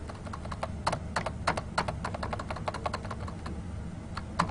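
Rapid keystrokes on a computer keyboard entering a Cisco IOS show interfaces command, a steady run of close, crisp clicks with no talking.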